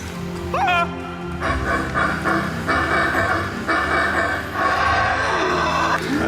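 A person imitates monkey calls with a rising whooping cry followed by rough, repeated guttural grunting calls, loud and close over outdoor background noise.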